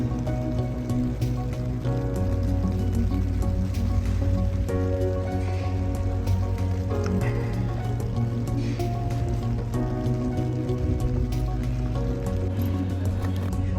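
Rain falls in the medieval town of Rothenburg ob der Tauber as a steady, continuous patter of scattered drops. It runs over a dense, tonal background din that holds throughout with no pauses.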